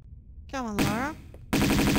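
Rapid automatic machine gun fire in Tomb Raider 2 Remastered, a dense steady burst entering after a short spoken line, loud and close.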